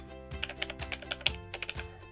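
Rapid, close keystrokes on a computer keyboard type out a short line of text in CapCut Desktop, an even run of crisp clicks over a low steady hum.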